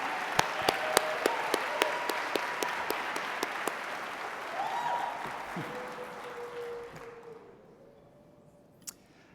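Audience applause at the opening ceremony of a bleeding disorders conference in Atlanta, honoring Don and the Georgia Boy Choir: a dense crowd of clapping with a few sharp loud claps at first, fading out gradually toward the end, a single clap near the close.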